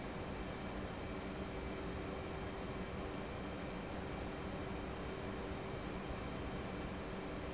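Aircraft jet engines on afterburner in a flight simulation game during a long-range bombing mission, a flat, constant roaring drone at low level, steady throughout with no talk.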